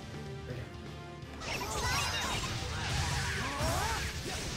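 In the role-playing video game Tales of Xillia 2, a loud shattering smash bursts out and scatters into a dense crash of breaking fragments, following a quieter stretch of game sound.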